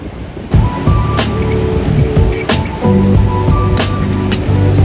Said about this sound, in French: Les vagues elles sont vraiment grosses.